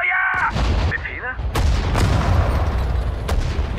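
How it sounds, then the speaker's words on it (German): Cannon artillery fire in the Sudden Strike 4 strategy game, Battle of Sedan: several loud booming shots land in quick succession over a dense rumbling battle din, with a brief radio-style voice at the start. "Here your cannon can fire over there."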